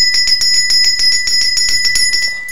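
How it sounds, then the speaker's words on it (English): A bell, bright and metallic like a bicycle bell, is rung in rapid repeated strikes that ring on steadily and loudly close by for over two seconds, with no talking. "Do you want to ring the bell?"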